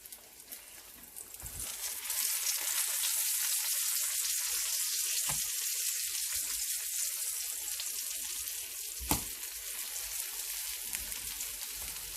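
Homemade bacon frying in a pan, a steady bright sizzle that swells after a quiet start and keeps a dense crackle going throughout, with a couple of sharp knocks from the pan.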